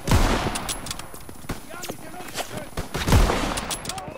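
Gunfire from the video game Call of Duty WW2, scattered shots and short bursts over about four seconds with louder clusters at the start and near the end, while a player talks over the action.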